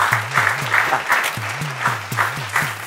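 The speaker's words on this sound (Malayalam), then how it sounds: "എല്ലാരും കൈയടിക്കൂ." An audience claps in quick rhythmic unison, with regular sharp beats and a voice running underneath the clapping.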